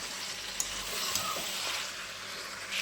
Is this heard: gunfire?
no